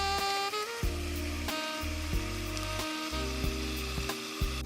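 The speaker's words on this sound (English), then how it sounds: "you want to continue to cook your ground beef until it's all the way brown" Ground beef browns in a hot pan for lasagna soup, sizzling steadily while a utensil scrapes and stirs in several distinct strokes close up.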